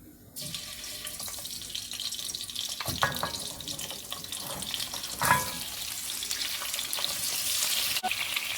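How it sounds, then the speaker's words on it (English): Kobe sizzles and fries in hot oil for a garden egg (eggplant) stew, a steady close hiss broken by a few clinks and stirring bumps, with no talk. "I'm going to let it fry for at least 5 minutes"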